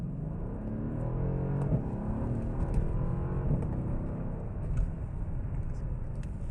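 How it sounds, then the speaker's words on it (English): A 2012 Mercedes-Benz E63 AMG at wide open throttle, its engine holding a steady, loud roar from inside the cabin that climbs through the run with brief shifts and no talk. "Wide open throttle run, let's see what you can do."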